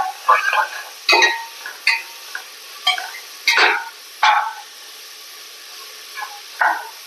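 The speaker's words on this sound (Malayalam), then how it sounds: "പച്ചമുളക് ചേർക്കുക നമുക്കിത് ഇളക്കി കൊടുക്കുക" Green chillies and onions being stirred in a hot pan, with a spoon scraping in short repeated strokes over a soft sizzle, each stir close and distinct.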